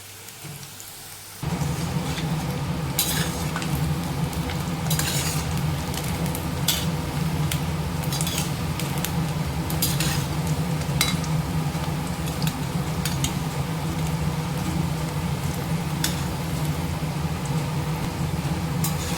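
Small snack balls fry in a pan of oil, giving a steady, even crackling sizzle that starts abruptly and holds close and unchanging, with no voices.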